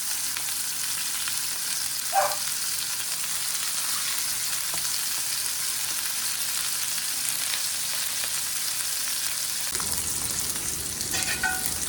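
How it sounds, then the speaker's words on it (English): Steady, close sizzling of chicken frying in a hot cast iron pan, a continuous hiss with a brief clink partway through. "It's going to sizzle for sure."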